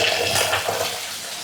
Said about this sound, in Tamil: நம்ம க்ளீன் பண்ணி வச்சிருந்த நிலக்கடலையே இப்போ நல்லா கழுவி எடுத்துக்கலாம்.